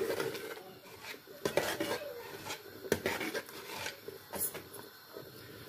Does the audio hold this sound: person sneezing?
no